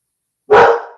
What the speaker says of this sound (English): my dog is barking now for no reason